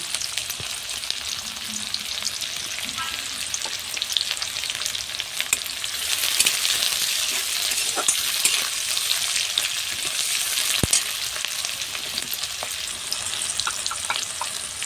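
Onion and garlic fry in a pan for a Bengali village-style bottle gourd leaf dish, giving a steady, loud broadband sizzle throughout, with a few sharp clicks of stirring and no voices.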